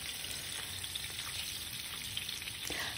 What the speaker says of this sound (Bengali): খুব কড়া করে ভাজবো না, হালকা করে ভেজে নেব।